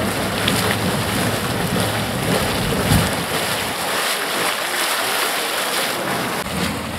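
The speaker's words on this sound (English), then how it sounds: "Constant bubbling and" Hot spring water bubbles and churns constantly at Mammoth Springs in Yellowstone, a dense, continuous hiss and gurgle at steady moderate loudness, heard alone without voices.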